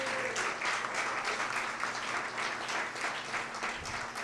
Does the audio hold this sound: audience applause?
yes